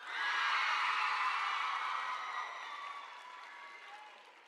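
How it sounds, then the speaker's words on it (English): Large crowd at a summer band camp opening session clapping and cheering loudly, a dense wash of applause with whoops that peaks early and slowly tapers off. "give me your loudest clap and cheer"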